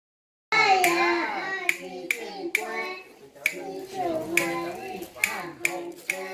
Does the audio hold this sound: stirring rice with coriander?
no